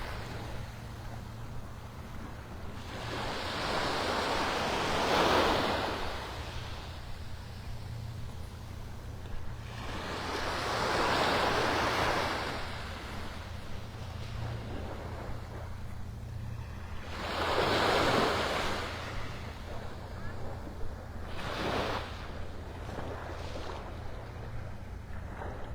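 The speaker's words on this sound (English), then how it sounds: "Nothing like an early morning walk on the beach by the pier." Ocean surf rolling onto the beach beside Naples Pier in Florida on an early morning, with three broad swelling wave washes rising and fading at regular intervals over a low constant background rumble.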